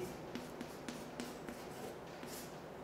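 A pen writes physics equations on paper in a quiet room, giving faint, close scratches and light taps in a short irregular series.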